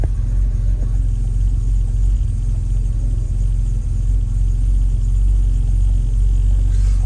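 A barn find Jaguar XJ6 engine running steadily on choke, giving a loud, close, continuous low rumble with no changes in revs and no voices.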